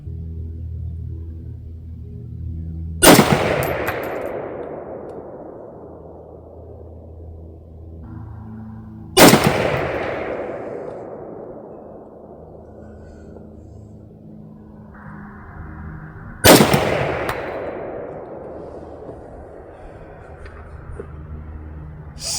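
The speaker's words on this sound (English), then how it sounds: "And I've only got 10 rounds left. Might as well shoot them up." Three single loud rifle shots from a Romanian PM63 AKM, spaced several seconds apart, each a sharp close crack followed by a long echoing decay outdoors.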